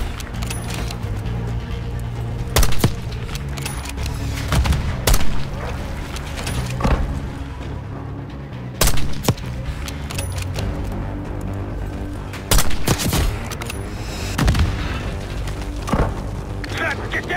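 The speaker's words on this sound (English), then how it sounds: "We gotta stop those mortars!" Heavy mortar and gunfire in the Call of Duty: Black Ops 6 campaign, with sharp booming impacts at irregular intervals over a constant loud rumble of battle noise.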